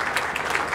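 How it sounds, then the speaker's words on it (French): Applause at the closing of a regional conference on women, peace and security in Africa, held in DR Congo, a short burst of brisk clapping from many hands, fairly close and steady. "Je demande un applaudissement de mes sœurs qui sont venues de tous les 11 pays de la région"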